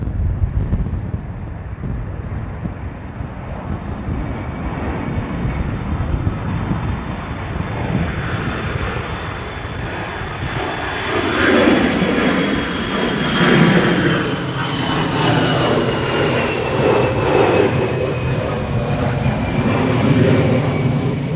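Airliner departing London Gatwick Airport during Storm Bert, a loud jet engine roar building as it climbs and passes, with gusty wind buffeting the microphone throughout.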